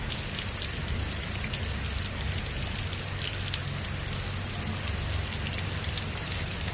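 Heavy rain pours down during a severe thunderstorm, a dense, unbroken roar of drops drumming on surfaces, loud and steady throughout with no thunder standing out.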